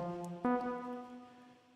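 A single sustained Native Instruments Massive synthesizer tone with a fast-attack, sharp immediate onset, holding steady and slowly fading out; no voice present.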